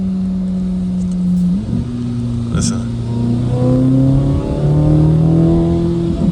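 A 2026 Corvette Z06 engine in track mode idles with a deep exhaust rumble, then revs and climbs in pitch in steps, loud and close, with a brief spoken word.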